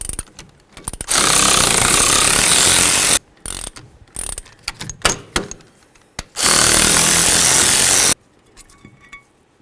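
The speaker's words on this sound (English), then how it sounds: "Now the next thing we need to do is remove our caliper bracket bolts." Bolts on the rear brake caliper brackets of a 1994-2004 Chevy S-10 are spun out with a ratcheting tool: two long, loud, steady whirring bursts separated by scattered clicks and clanks, with no talking.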